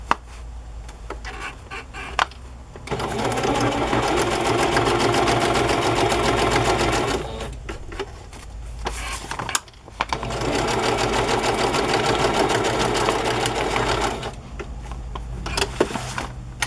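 Sewing machine stitching along the edges of coffee-dyed paper, running in two long loud bursts of steady whirring with short pauses between them while the fabric-free paper is repositioned.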